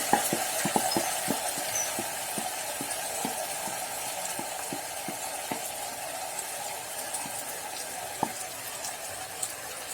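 Marinated chicken for chicken haleem sizzles in a pan while being stirred, a steady close frying hiss broken by sharp scraping clicks of the spoon, especially early on.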